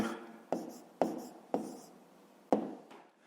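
Fractions written out by hand for a fifth-grade math exercise, a series of five short scratchy pen or chalk strokes, each with a sharp start and quick fade, close and alone.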